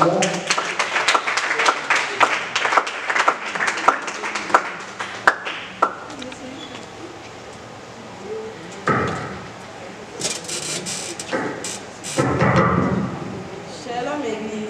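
A church congregation claps at a New Year greetings service, a burst of sharp claps early on that thins out while voices carry on with scattered knocks.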